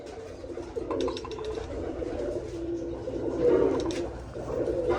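Pigeons coo softly and repeatedly close by in a loft, low rounded calls overlapping against faint background noise.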